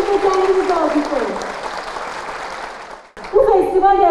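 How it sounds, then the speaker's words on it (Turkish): A festival audience claps steadily at TEKNOFEST, the drone-race competition event, a dense wash of applause that fades out near the end and then swells again loudly, with speech over it. "Kendinizi de alkışlayın."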